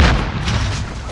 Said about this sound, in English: Throwing stun!